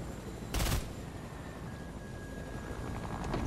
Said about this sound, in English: He's trying to do sniper shots.